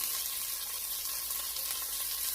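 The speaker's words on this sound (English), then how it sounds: "We're going to cook this celery so it's nice and translucent." Chopped celery sizzles steadily in a hot pan for egg drop soup, a continuous close hiss with faint crackle and no voices.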